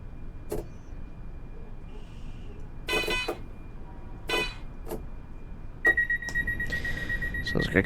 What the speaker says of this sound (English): Sounds like a car horn.